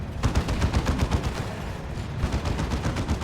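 Rapid gunfire bursts in the Warhammer 40k: Dawn of War 2 video game, dense overlapping shots in fast rhythmic volleys with a brief lull before firing resumes, loud and continuous with no voices.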